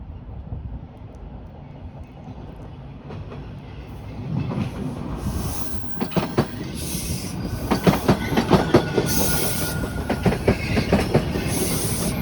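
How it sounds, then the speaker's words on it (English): A train passing Tom Riley Park rumbles by at moderate distance, building in loudness with rhythmic clickety-clack of wheels over rail joints and occasional high metallic squeals. "Oh, here comes the train. I can see it coming."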